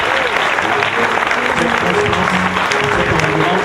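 A church congregation breaks into loud, sustained applause and cheering in praise of the Lord, while a voice speaks over the clapping.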